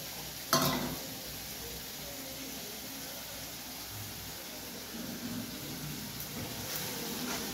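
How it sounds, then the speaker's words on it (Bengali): Spice paste for a Bengali fish curry sizzling and being stirred in a pan, a steady low frying crackle with a sharp clatter near the start and soft scraping throughout. "ওদের মাছের ঝালের মশলাটা দিয়ে দিয়েছে, সেটা একটু ভালো করে কষে নিচ্ছে মশলাটা"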